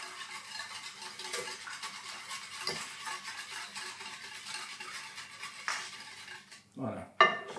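Milk and brown sugar being stirred in a pot with a spoon, repeated scraping and clinking of metal against the pot, close and moderately quiet, ending in a sharper clatter.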